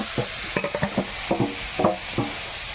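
Pumpkin and ginger pieces are stirred and turned in a frying pan, giving quick uneven scrapes and taps over a steady hiss, nearby and with no voices.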